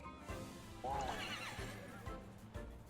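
A horse-like creature in the video game Temtem gives a short whinnying cry mid-clip, set over a steady bed of game music and effects, with soft hoof-like thumps around it.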